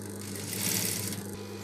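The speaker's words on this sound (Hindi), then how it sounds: "नीचे की तरफ सिलाई लगाना है" A sewing machine stitches a seam low on a cotton baby suit for a two- to three-year-old, sewing near elastic, giving off a steady close whirring hum that swells slightly midway through the short run with no voices.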